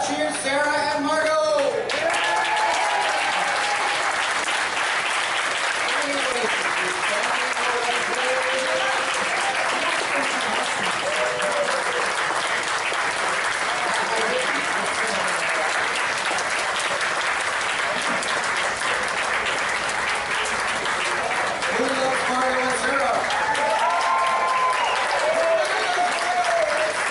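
A convention crowd at the 39th Superman Festival cheers and applauds costumed guests Sarah and Margot, dense clapping sustained for the whole stretch with whoops and shouted voices rising over it.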